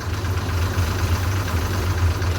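A vehicle engine runs steadily on a road near Coonoor, a loud, continuous low rumble with a constant hum and no pauses.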